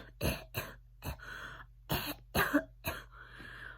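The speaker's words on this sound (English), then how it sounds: "How long have you had that cough?" A man coughs hard several times in a dramatized reading, about seven sharp, ragged bursts in an uneven rhythm, close and loud, with a hoarse throat-clearing rasp at the end.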